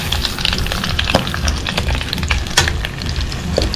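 Crispy pork sizzles loudly in a pan in its own rendered fat with no added oil, a close, continuous crackling hiss with occasional pops and stirring sounds.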